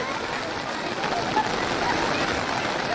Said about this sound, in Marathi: चालू पाऊस मस्तपैकी चालू आहे